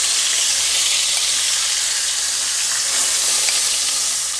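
Chicken pieces fry and sizzle loudly in a very hot pot, a dense, continuous crackling hiss close up with no pauses and no voices.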